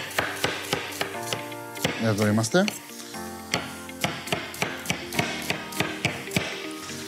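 Onion being chopped with a knife on a board in a kitchen, a steady run of sharp, evenly spaced taps, close and clear, briefly interrupted by a short spoken phrase.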